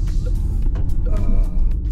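Steady engine hum and tire rolling noise from inside a moving car, a continuous low rumble with faint higher whirring, no talking.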